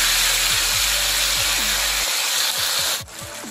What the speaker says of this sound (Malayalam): ഈ കൂന്തലിടുമ്പോൾ ഒന്ന് പൊട്ടിത്തെറിക്കുന്ന ഒരു ഇതൊക്കെ ഉണ്ട് കൂന്തലിൻ്റെ ഒരു സ്വഭാവമാണത്